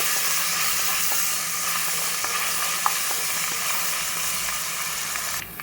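Onions and ginger paste fry in a pan for a masala capsicum curry, a continuous even sizzle and hiss with a few faint utensil ticks, no voices.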